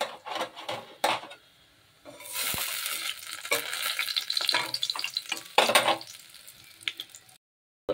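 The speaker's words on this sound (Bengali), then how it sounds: "তেল দিয়ে দিয়েছি বড়াটাকে ভাজার জন্য।" Masoor lentil fritter batter hits hot oil and sizzles loudly, with bursts of crackling frying broken by brief quiet gaps and light stirring or scraping sounds.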